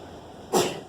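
A person sneezes once during a college math review class, a loud, abrupt burst that fades quickly over a low, steady room background.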